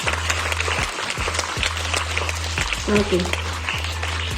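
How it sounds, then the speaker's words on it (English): Students in a school classroom applaud participants at a National Science Day celebration, a steady patter of clapping running throughout, with a voice speaking briefly over it. "let us all clap for all the participants who participated"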